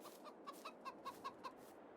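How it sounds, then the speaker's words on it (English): Several chickens in Farming Simulator 22 cluck in quick, evenly spaced bursts, faint and steady, with a soft electronic quality and no voices. "And the chickens have multiplied."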